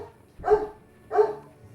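Two evenly spaced dog barks, moderately loud and alone, with no talking.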